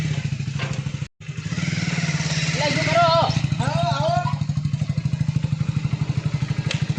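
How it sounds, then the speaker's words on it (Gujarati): Motorcycle engine running and revving up repeatedly at close range, loud and steady with a brief cutout, while someone talks over it. "બાઈક રાઉસ કરું છું"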